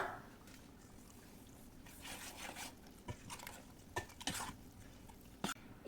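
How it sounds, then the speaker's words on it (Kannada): Mixing semolina rava dosa batter with water in a bowl: soft scraping and stirring with occasional clinks of a utensil against the side, fairly quiet with no voices. "ಇನ್ನು ನಾವು ಇದನ್ನು ಚೆನ್ನಾಗಿ ಮಿಕ್ಸ್ ಮಾಡುವ"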